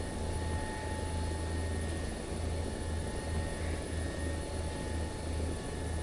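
A helicopter in a video game drones steadily with a low rhythmic rotor thump and a constant engine whine, loud and continuous with no voices.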